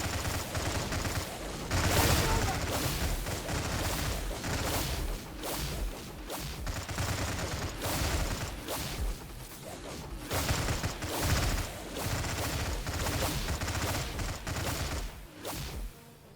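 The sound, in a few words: ground cannon firing in video game Stargate at War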